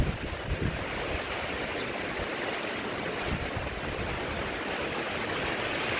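Strong typhoon wind roars continuously, loud and close, as a broad rushing wash with gusty low buffeting against the microphone and no voices.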